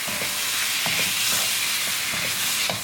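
Pork being stirred into tomato curry sauce with tadka in a pan, a steady sizzle with soft scraping and stirring knocks repeating under it, close and fairly quiet.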